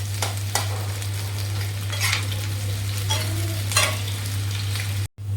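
Chopped onions sizzle steadily in hot oil for a mutton curry, a continuous close frying hiss broken by occasional stirring scrapes, with a low electrical hum running underneath.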